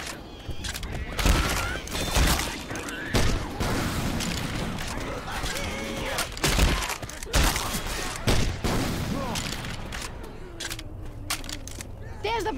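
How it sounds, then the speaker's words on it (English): Gunfire and booming blasts from a grenade launcher in Left 4 Dead 2 during a Parish level, with repeated sharp explosive shots amid combat clatter and game effects. "Got a grenade launcher."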